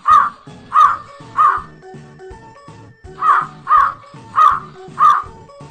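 A crow caws loudly and close in two bursts of three and four harsh calls, with a thin musical backing underneath and no talk.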